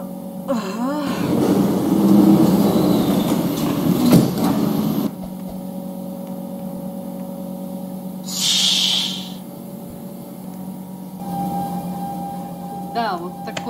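A Roblox subway train in Robloxian Automatic Subway 2 rumbles and hisses loudly for several seconds, then settles to an idling hum with a brief bright hiss like doors, while a voice talks over parts of it.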